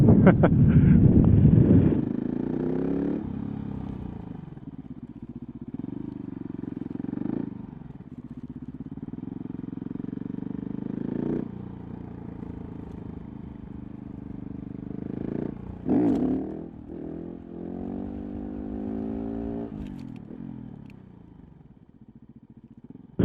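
A motorcycle revs and pulls away during wheelie practice, engine note climbing and falling through several gear changes, then fading into the distance with wind buffeting the microphone.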